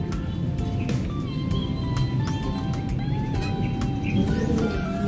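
A blue bar hen racing pigeon coos and calls during club training in Porac, Pampanga, with other bird chirps and faint voices in the background.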